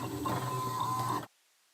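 A Silhouette cutting machine runs with a steady mechanical whir and hum for just over a second, then stops abruptly, leaving near silence.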